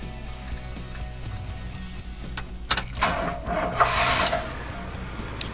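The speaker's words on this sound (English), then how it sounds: "Here's a startup." A 1972 Oldsmobile Cutlass Sports Coupe starts up: first some mechanical clicks and rustling, then the starter cranks and the engine catches, settling into a smooth, close idle.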